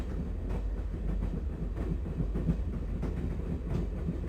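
Train rumbling along rails in the PC adventure game Broken Sword: Shadow of the Templars, Director's Cut; a steady, continuous low clatter and rolling rumble throughout, fairly close and with no talk over it.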